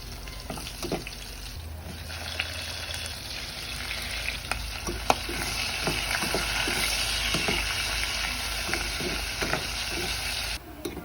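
Squid adobo with garlic and onion sizzles steadily in a pan while a utensil scrapes and clinks as it is stirred, the frying hiss continuous and close throughout, with no speech.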